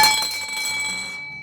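Shatter-resistant glassware gives one bright clink that rings on with a clear, sustained tone before fading, alone and close.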